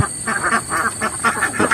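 Egg-laying ducks in a raised pen quack steadily in a rapid, overlapping chorus, loud and close, with no voices.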